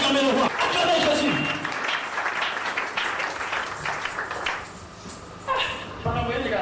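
A church congregation applauds and cheers in a steady, dense wash of clapping, loud and close, with voices mixed in throughout and a brief dip before the noise swells again.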